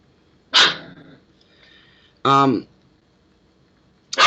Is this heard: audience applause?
no